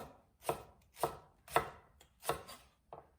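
A knife slicing green onion diagonally on a cutting board while preparing Chuncheon dakgalbi, five crisp, close chops at a steady even rhythm with quiet gaps between.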